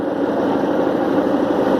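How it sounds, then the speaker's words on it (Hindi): A narrow-gauge diesel locomotive of the Darjeeling toy train railway runs at a steady, loud drone, close by and unbroken, with no voices. "ये है डीजल इंजन।"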